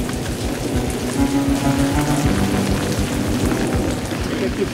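Steady heavy rain pours down during extreme military-style training with the Paris firefighters outdoors, a dense, loud and unbroken hiss of drops with low rumbling underneath and no voices.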